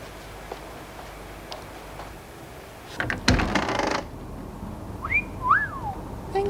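A rising-and-falling whistle, two short swooping notes, heard after a brief clatter of knocks, over a quiet background.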